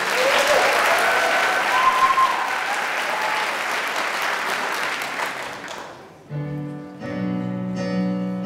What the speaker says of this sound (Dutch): Mag ik een heel groot applaus?